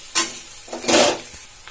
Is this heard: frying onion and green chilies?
yes